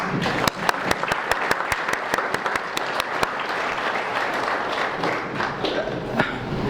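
An audience at a talk claps for themselves, a steady round of applause with sharp individual claps standing out, filling the room throughout before easing slightly toward the end.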